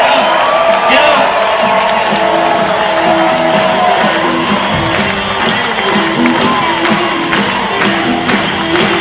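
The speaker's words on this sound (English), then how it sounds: "Let's give him applause." A crowd cheers, whoops and applauds continuously and loudly at a live business mastermind event, a dense roar of clapping and voices filling the whole stretch.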